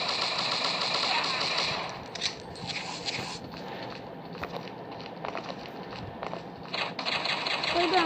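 Rapid automatic gunfire rattles in a first-person shooter video game, bursts of fast clattering shots with a pause in between, while voices talk over the action.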